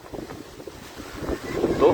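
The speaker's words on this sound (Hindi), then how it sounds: "तेज हवाएं चल रही है।" Strong gusty wind roars outdoors during a weather change in Hazaribagh, buffeting the microphone with a steady rushing noise that swells toward the end as a coconut palm bends in the gusts.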